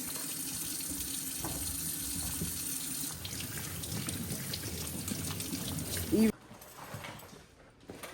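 Salad ingredients washed under a running kitchen tap give a steady splash and trickle of water, close and constant, briefly joined by a soft clink before the flow cuts off and quieter handling follows.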